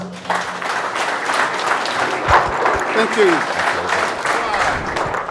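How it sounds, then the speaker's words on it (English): A crowd at a bass fishing championship awards ceremony applauds in a continuous, lively round of clapping, with a voice briefly speaking over it. "Let's give them a round of applause."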